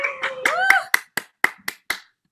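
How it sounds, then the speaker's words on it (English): Short burst of clapping for sixth grade science fair winners, a handful of sharp, separate claps from a few people that thin out into single slaps, with some voices and a tonal vocal sound early on. "round of applause for our winners for 6th grade"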